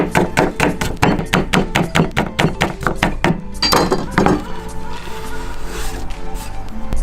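A kitchen knife chops scallions on a cutting board in a brisk, even rhythm of about a dozen close, sharp thunks, then stops and leaves quieter kitchen handling noise.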